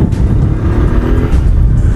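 Bajaj Pulsar 150 motorcycle engine running steadily and loud, a dense continuous low rumble with no talk.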